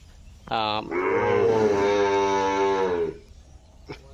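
A native deshi bull raised for beef gives one long, loud, close moo of about two and a half seconds, then the clip ends with a faint, brief knock.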